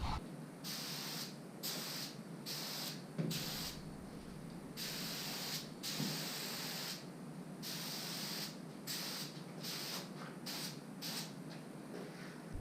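A paint spray gun at 25 PSI coats a 4th-gen Camaro mirror in repeated hissing bursts of a few seconds each, separated by short pauses.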